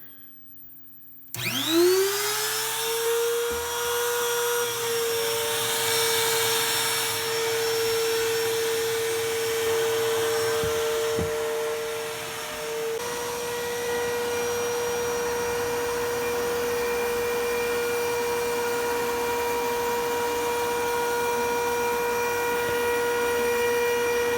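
A CNC router spins up inside a newly built shop enclosure for its first cutting run, a loud steady whine with a rising pitch at startup that settles into a sustained, slightly muffled drone.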